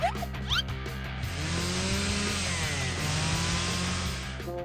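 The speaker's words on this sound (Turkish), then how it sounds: "Aa, bir motorlu testere." A chainsaw in the Poppy Playtime video game starts with a few quick revs, then settles into a steady, loud buzzing drone that runs throughout.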